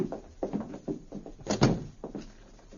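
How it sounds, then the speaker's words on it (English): A hotel room door is shut and locked as a radio drama sound effect: a series of soft wooden thuds and handling knocks, building to a firmer clunk of the bolt, then settling quietly. "After locking the door,"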